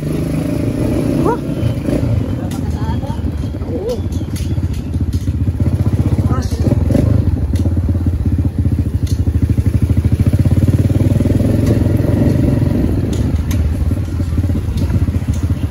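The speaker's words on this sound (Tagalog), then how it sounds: "Grabe itong motor na to." A motorcycle engine runs nearby on a street in Bacolod, a loud steady rumbling idle with some revving, and people talk over the engine noise.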